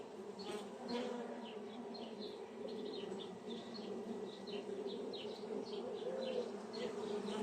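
Honey bees swarm and buzz around a hive, a dense steady drone with many overlapping wingbeats and individual bees zipping close past, no voices.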